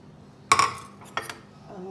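A spoon clinks and scrapes against a bowl while onion, coriander and capsicum sandwich filling gets mixed, one sharp knock followed by a couple of lighter taps, close and brief.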